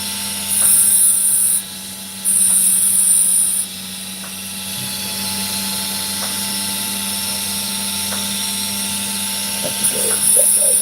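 A high-pitched power tool whines in sharp bursts while sanding rough opal, switching on and off twice before settling into a steady lower drone with faint clicks and taps.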